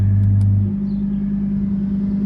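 Audi R8 Performance engine with exhaust valves closed in standard mode, a deep steady rumble heard close by that eases slightly after a brief louder moment at the start, no voices.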